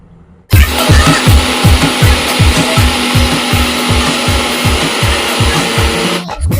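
Electric mixer grinder running loud and steady for several seconds, grinding cashews into powder, with a rapid pulsing motor drone that starts abruptly and stops at the end.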